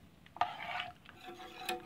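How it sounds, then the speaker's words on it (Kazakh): A spoon stirs custard cream in a saucepan for a sponge cake, making brief scraping and light clinking strokes close by, with one sharper knock partway through. "Қайта араластырып жібереміз."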